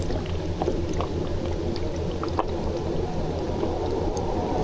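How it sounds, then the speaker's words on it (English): Faint, distant boat engine drone carrying and echoing near a glacier, a steady low rumble under a constant watery hiss with no voices. "It's funny how the boat noise just gradually comes back."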